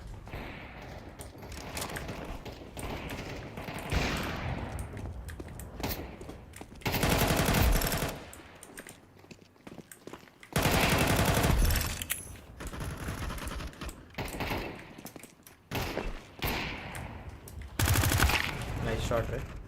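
Bursts of automatic gunfire in the battle-royale game Free Fire come in several loud rapid volleys between quieter stretches, over background game sound and light talk.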